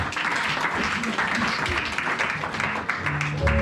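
A church congregation applauding during a worship service, with sustained crowd clapping that fills the room, mixed with cheers and voices, fairly loud and unbroken throughout.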